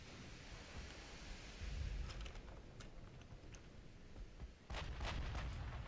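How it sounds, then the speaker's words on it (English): Distant naval gunfire in the warship game Ultimate Admiral: Dreadnoughts, scattered faint booms and sharp cracks over a low rumbling sea-and-engine bed. "The Obdurate is trying to return fire against the V1, but seems to be missing most,"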